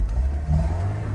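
A Lada 2103 engine labors at low revs as if about to stall, a steady close rumble with uneven revving over 1.2 seconds, no talk.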